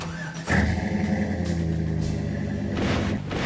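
An American street rod car engine running steadily at idle, a low, loud rumble that kicks in sharply after a quiet start and holds with a slight rev, with no talk.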